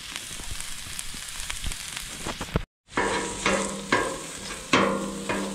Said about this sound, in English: Then we'll smash the sausage and get it all broken apart.